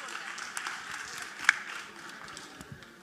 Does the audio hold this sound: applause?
yes